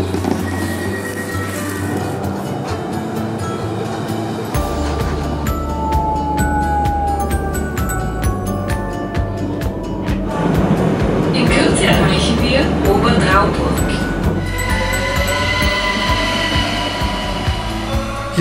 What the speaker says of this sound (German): Ich sehe gerade, mein Zug kommt gleich.